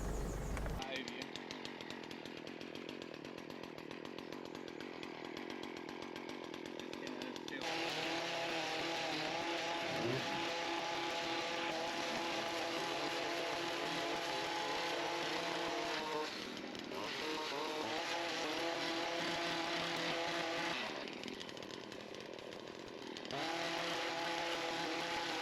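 A video-game chainsaw cutting through brambles and barbed wire near an alder tree while clearing a lake, its engine droning continuously and revving up and down in loud sustained bursts.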